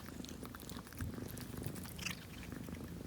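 A tiny cat, weighing under five pounds and recovering from surgery, purrs softly close by in a quiet room, a faint rhythmic rumble with small shuffling noises.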